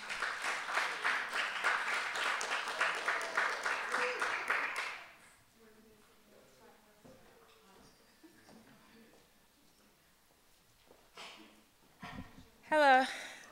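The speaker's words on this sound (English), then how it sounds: "Round of applause, round of applause." An audience at an open mic gives a round of applause, dense and fairly close for about five seconds, then fades out into quiet room noise with scattered small sounds.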